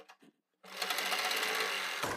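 A sewing machine runs a loose basting seam down the center of kurti fabric, one steady continuous whir of close stitching after a few faint handling taps, then stops abruptly.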